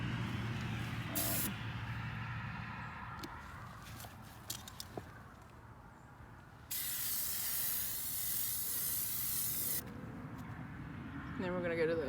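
Amsoil Mudslinger aerosol sprays into a car footwell in several hissing bursts, one short early, a long sustained blast in the middle and another near the end, with passing traffic and a voice talking between sprays.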